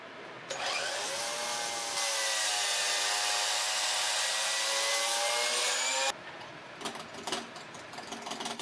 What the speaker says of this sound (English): I'm just going to be turning a very basic 3-inch cylinder to be that front leg.